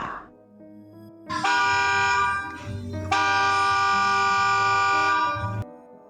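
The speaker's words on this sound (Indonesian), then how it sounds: "Suara klakson bus yang baru masuk ke dalam terminal" A loud, sustained bus horn blares twice in long blasts as the bus enters a bus terminal, the second held for a couple of seconds, with a faint engine rumble beneath.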